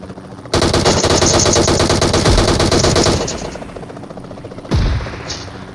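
Loud, close automatic gunfire from a heavy weapon in PUBG Mobile, a sustained rapid burst of roughly three seconds, a pause, then another short burst.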